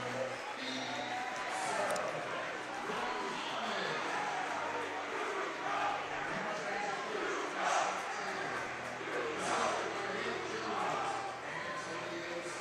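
A loud high school boys basketball crowd fills a gym, the student section roaring in a dense, sustained wash of cheering and chatter for the whole stretch, with a commentator talking over it.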